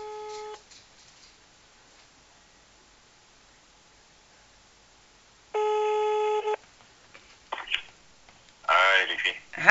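Telephone ring tones heard while placing a call, two bursts of ringback separated by a long silence, followed by brief faint voices over the line.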